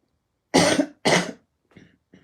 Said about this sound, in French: ça peut arriver que je tousse